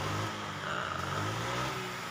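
A motorbike engine, checked after a leaking fuel tank's fuel-pump O-ring was replaced, revs gently and steadily up close, with a smooth rising and falling hum and no voices.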